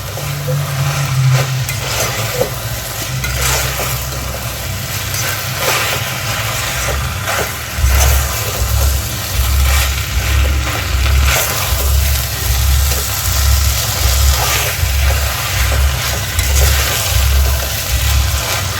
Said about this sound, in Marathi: छान दोन ते तीन मिनटं हा तांदूळ आपल्याला परतवायचा आहे